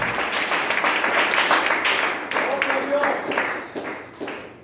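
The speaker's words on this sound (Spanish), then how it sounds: "Alguien que lo aplauda fuerte esta noche" A church congregation at an evening sermon claps in a dense burst of applause that fades out over a few seconds, with voices talking underneath.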